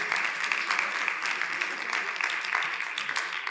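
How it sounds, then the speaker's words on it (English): A panel audience breaks into steady, dense applause with continuous clapping held at a moderate level, heard from within the room after a discussion on Black motherhood. "Let's just give them a round of applause"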